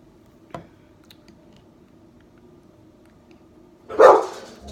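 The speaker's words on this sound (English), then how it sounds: "Sorry, my dog." A pet dog, a female, indoors barks once sharply at a cat outside after a faint earlier yip, the bark loud and close against a quiet room.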